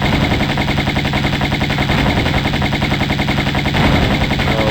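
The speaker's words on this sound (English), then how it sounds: "instead I'm gonna take this guy down with Uzis" Uzi fire in Tomb Raider I Remastered comes as a loud, continuous rapid stream of shots, a dense rattle that runs unbroken from start to finish with no talk.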